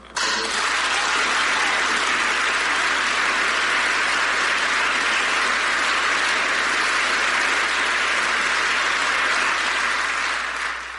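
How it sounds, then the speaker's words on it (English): A large audience applauds a speaker at an evening lecture, producing a loud, steady, unbroken wall of clapping that lasts about ten seconds before tailing off. "Please give a rounding applause to Ralph Nader,"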